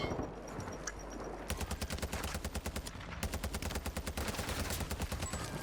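Rapid gunfire bursts in the Call of Duty Warzone video game on the Vondel map, repeated automatic volleys with sharp clustered shots running almost continuously, loud and close.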